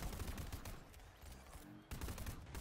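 Gunfire in the Fortnite battle royale game, rapid repeated shots in continuous bursts with a short pause before firing resumes, fairly quiet overall.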